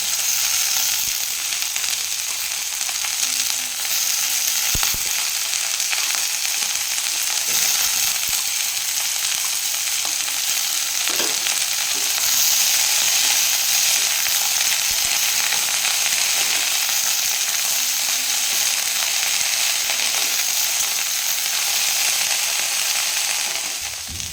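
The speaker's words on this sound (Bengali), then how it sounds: "এবার মটরশুঁটির খোসাগুলো দিয়ে দেবো" Pea pods sizzle loudly in a pan of oil with onions, a dense, steady hiss throughout with occasional faint stirring clicks.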